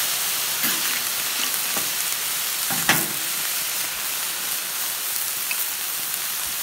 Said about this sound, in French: on voit les moules, elles crassent leur eau et la température de la plancha chute